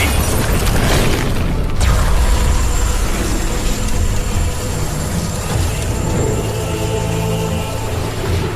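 Booming lightning blasts from a fantasy film fight scene, a heavy low rumble with a sharp burst near the start, then sustained loud roaring energy throughout.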